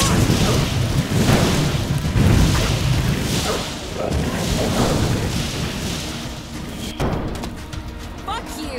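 Grenade launcher blasts in the action RPG Elex, a run of heavy booming explosions with rumbling decay, loud and close, over ongoing game noise.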